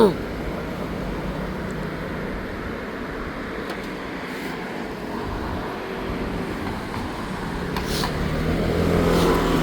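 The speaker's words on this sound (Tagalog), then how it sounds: "Ang daming sasakyan." Busy street traffic rolls past steadily, a continuous near-to-mid-distance rumble of many cars with engines swelling toward the end, no pauses, and no clear talking over it.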